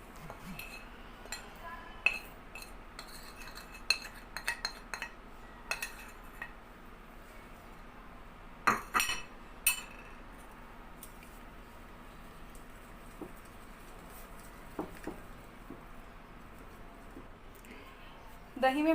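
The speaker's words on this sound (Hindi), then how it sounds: "इन्हें अच्छे से मिक्स कर लेंगे दही में" Spices being stirred into yogurt in a bowl, a spoon scraping and clinking against the bowl in scattered light taps over a quiet kitchen background.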